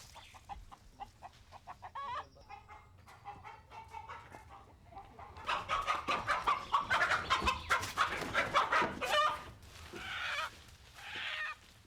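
Chickens and roosters cluck and squawk in a busy, rapid flurry, growing louder and denser midway, with a lively farmyard clamor.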